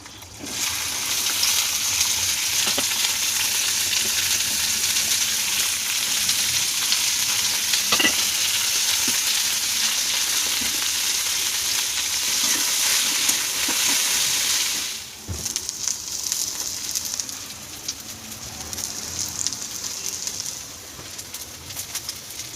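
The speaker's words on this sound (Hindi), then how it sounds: "ये भिंडी फ्राई मैं अभी करने वाली हूँ" Sliced okra (bhindi) fries in a pan in a home kitchen, giving a loud, steady hiss of sizzling oil throughout, with faint stirring clinks. The sizzle dips and grows a bit quieter near the end.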